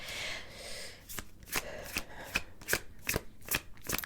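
Tarot cards being shuffled by hand, with a soft riffling rush followed by a run of crisp, evenly spaced card slaps and flicks, close and fairly quiet, with no talking.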